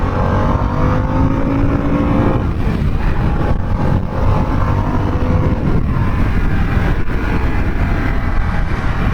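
A 2021 Harley-Davidson Sportster S motorcycle pulls hard under acceleration, its loud, steady engine roar and wind noise continuous from close by while riding, with rising tones through the gears.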